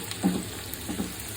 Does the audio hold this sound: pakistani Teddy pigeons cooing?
no